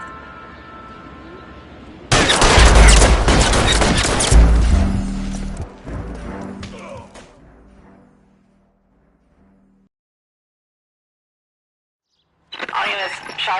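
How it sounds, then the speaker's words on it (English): A sudden burst of loud gunfire during a police standoff, several shots crashing together for about two seconds before fading into a low rumble and silence, with voices returning at the end. "All units, shots fired."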